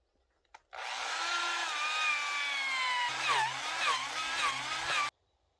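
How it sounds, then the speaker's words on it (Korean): A power drill bores a hole into the top of an old wooden railway sleeper being made into a gate post, one sustained whirring run of about four seconds with pitch dips as it loads, starting and stopping abruptly. "상단 부분에 나무를 끼울 수 있도록 구멍을 뚫는 작업을 하도록 하겠습니다"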